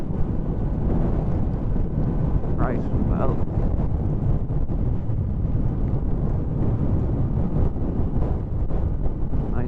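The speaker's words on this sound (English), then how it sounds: "today is still pretty fucking windy" Strong wind buffets the microphone outdoors on a rainy, blustery day, a steady heavy low roar running throughout with brief spoken words over it.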